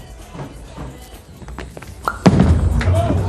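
Bowling pins scatter under a heavy strike at a PBA All Star Weekend event, with a clattering burst near the end that follows softer thuds and crowd murmur.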